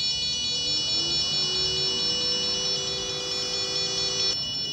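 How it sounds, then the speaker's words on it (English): Buzzers on an Arduino LPG gas leakage alarm sounding, a loud steady high-pitched chirping tone with pulsing overtones that persists throughout and stops abruptly at the end. "As soon as I trigger the gas leakage, we can see the regulator turned off, buzzers start making sound"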